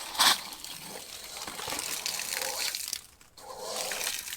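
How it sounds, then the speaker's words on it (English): Water rushing from an outdoor hose faucet on a service loop plumbing setup, a steady hissing gush after a brief sharp burst, cutting out briefly near the end before resuming. "But I'll get back and turn the water on."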